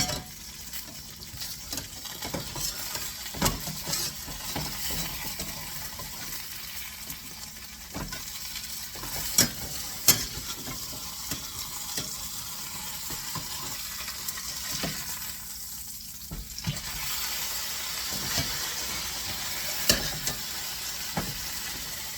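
Homemade lamb and cheese sausage frying in a pan with rendered fat, a soft steady sizzle running throughout with scattered clicks and scrapes as it is handled and flipped, fairly quiet and close.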